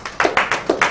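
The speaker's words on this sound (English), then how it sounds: "One more time, a round of applause for him." A live-stream audience applauds an African music tribute, with bursts of clapping that rise and fall in quick, uneven waves over about a second, moderately loud and without talk.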